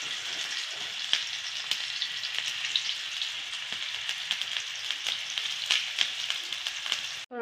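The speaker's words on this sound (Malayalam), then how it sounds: "അതിൻ്റെ കൂടെ തന്നെ നമുക്കത് മീനും കൂടി വറുക്കുന്നുണ്ട്" Masala-coated fish, rubbed with chilli and turmeric, fries in a pan with a steady, dense sizzle and crackle that runs the whole time, close and fairly loud, with scattered pops and no talking.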